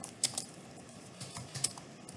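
Light tapping on a computer keyboard, a few faint scattered keystrokes with a couple of sharper clicks, quiet and close with no talking.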